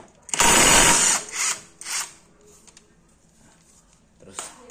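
An impact wrench removes the magneto cover bolts on a Yamaha Aerox scooter with one loud, close burst followed by two shorter hammering bursts, then a quieter pause before a brief final burst.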